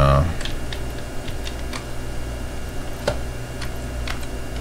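Home-key presses on a computer keyboard while playing the flight simulator F-15 Strike Eagle III make a few sharp, separate plastic clicks, close to the microphone, over a low steady background hiss.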